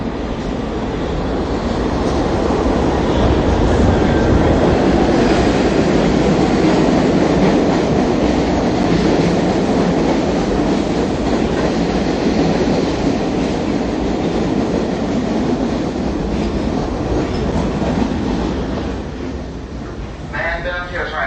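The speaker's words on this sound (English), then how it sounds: "All right, I'm getting on the Q train." A New York City subway Q train rides along, giving a loud continuous rumble with rhythmic clickety-clack from the wheels and rail, and the noise eases slightly near the end.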